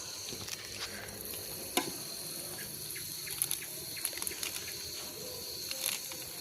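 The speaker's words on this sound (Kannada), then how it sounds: "ನಮ್ಮ ಹುಡುಗಿ ಇವಾಗ ಅಕ್ಕಿ ತೊಳಿತಾವಳೆ" Rice being washed by hand in water at an outdoor village cooking setting at dusk, with soft sloshing and irregular dripping splashes throughout, quiet and steady with a few sharper clinks.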